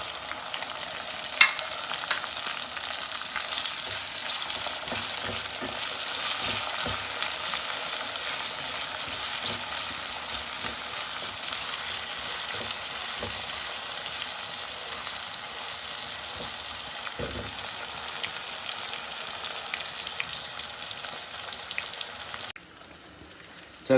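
Tomatoes and green chilies sizzle loudly in a hot kadai for a dhaba-style chana dal, a dense continuous crackle broken by scraping stirs. The sound drops away abruptly at the very end.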